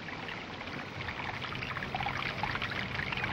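A water rat swimming across a lake, heard as a steady close wash and rippling of water that continues without a break and grows slightly louder.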